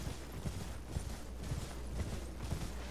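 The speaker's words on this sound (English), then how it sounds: "Pop off your horse right about here." Rhythmic clip-clop of horse hooves at a steady trot in the video game Elden Ring, evenly spaced thuds over a constant background hiss, no speech.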